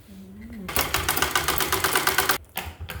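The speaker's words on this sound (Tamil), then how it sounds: "கை மடித்து தைக்கிறாங்க." A sewing machine stitches a folded blouse sleeve with a fast, loud, even mechanical rattle that runs for nearly two seconds, then stops briefly and restarts; a voice speaks just before it starts.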